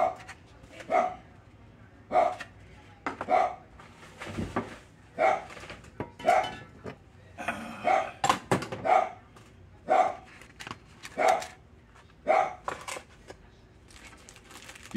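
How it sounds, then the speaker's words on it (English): A small guard dog barks in short, evenly spaced bursts at a moderate distance indoors, about a dozen sharp barks over a quiet background, with faint occasional talk. "you can hear my guard dog."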